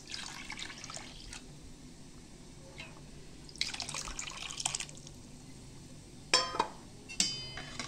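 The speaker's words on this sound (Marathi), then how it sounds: "आता आपण ह्या सांबारामध्ये पाणी टाकणार आहे डाळीमध्ये." Water is poured into lentil sambar in a pot, with faint intermittent splashing and trickling bursts followed by a few louder pours and drips near the end, quiet and close, with no talk.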